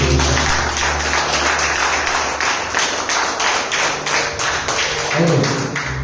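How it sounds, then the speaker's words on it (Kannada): Loud, sustained applause from a church congregation clapping for Jesus during a fasting prayer service at Berachah Church, a dense rapid patter of many hands throughout. "ಯೇಸುವಿಗಾಗಿ ಒಂದು ದೊಡ್ಡ ಚಪ್ಪಾಳೆಯನ್ನು"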